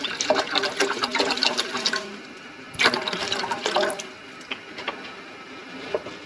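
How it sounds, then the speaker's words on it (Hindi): Water splashes and pours steadily into a metal cooking pot on high heat, about a large glassful, bright and close, tapering off into quieter trickles and a few drips. "इसमें डालती हूँ पानी"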